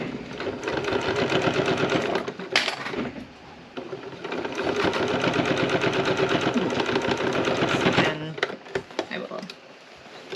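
Domestic sewing machine stitching the second pass of a French seam, a steady fast rhythmic whir running in two long spells with a brief pause between, close and fairly loud.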